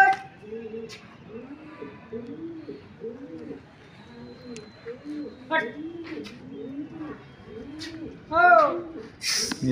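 Fighting pigeons coo in a steady run of soft, low, repeated calls. A few chirps and short sharp sounds break in near the end, and a voice talks faintly in the background.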